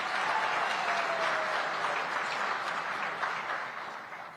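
Sustained applause from delegates in a large hall at a SADC summit of heads of state, a broad, even roar of many hands heard at a distance, fading slightly toward the close.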